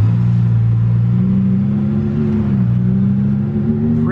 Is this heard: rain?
no